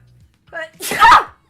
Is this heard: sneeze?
yes